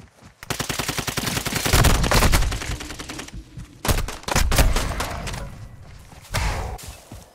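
Automatic weapon fire in the video game Warzone, loud rapid bursts of shots in several strings, with a sustained volley early and shorter bursts later, separated by brief quiet gaps.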